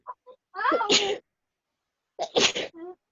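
Two sneezes in a classroom during a lesson on volume and capacity, spaced about a second and a half apart, each with a sharp intake and a burst, fairly close and moderately loud.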